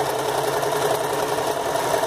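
A sewing machine runs a continuous stitch along a patchwork fabric panel for a ruffled skirt, a steady close mechanical whir without pause.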